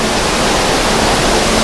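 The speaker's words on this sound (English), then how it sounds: "And an absolutely fantastic waterfall." An indoor waterfall in a garden exhibit at the Rama 9 Science Museum in Bangkok roars in a loud, steady, broadband rush of falling water, close by and unbroken.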